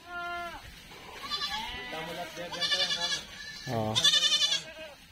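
Boer and Anglo Nubian goats in a herd of about a hundred bleat repeatedly and loudly at close range. Several overlapping calls come in waves, and a person speaks briefly among them.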